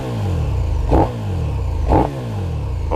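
A KTM Superduke R motorcycle engine revs while being ridden, a loud, close low drone with periodic rising pulses roughly once a second, no talking.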